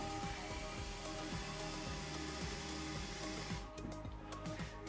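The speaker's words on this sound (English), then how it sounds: "the second drill is the so-called planator for creating a good surface on the button" A planator dental drill shapes a bone surface, giving a steady high-pitched whine with a faint repeating tick, constant and close throughout before easing slightly near the end.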